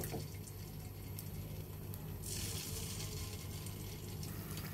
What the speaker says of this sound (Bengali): এভাবে আমরা পকোড়াগুলো ভেজে নিব।